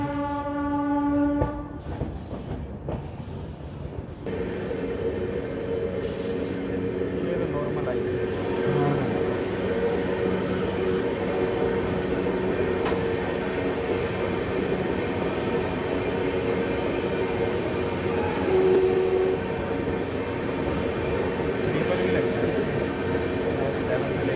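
The 12482 Shri Ganganagar–Delhi Intercity pulls away from Narwana Junction with a blast of the horn at the start, then a steady, loud rumble and clatter of the moving train as heard from on board.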